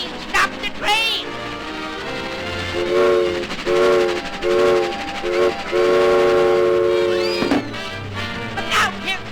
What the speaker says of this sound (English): Stop the train! Stop the train!